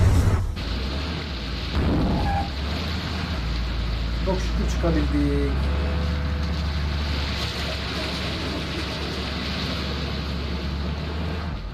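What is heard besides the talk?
boat moving on water in Bus Simulator Indonesia video game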